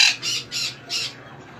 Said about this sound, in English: So here's my pretty bird.